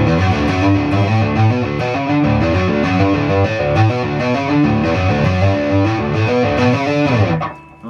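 The guitar intro of Angels and Airwaves' Mercenaries, played in drop D tuning, runs as a loud, steady, distorted riff for several seconds before it fades out at the end.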